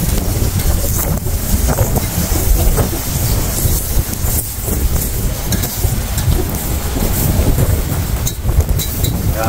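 Wind gusts across the microphone at an outdoor charcoal grill, a loud, continuous rumbling roar lasting the whole stretch with no talk.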